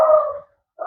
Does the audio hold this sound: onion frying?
no